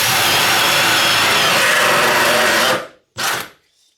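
Bosch hole saw on the high setting boring through wood, a loud steady high-pitched whine for nearly three seconds that cuts out, then one short burst of spinning before stopping.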